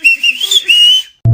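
A person whistles a wavering, bright tune in a short close phrase, followed by a brief spoken word.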